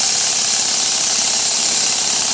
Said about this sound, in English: Being run by one of my little vertical engines.